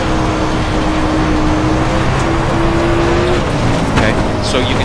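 A dirt race car engine in the iRacing video game drones steadily and loud throughout, its pitch holding almost level before dipping slightly as the throttle comes off, with a brief tire scuff near the end.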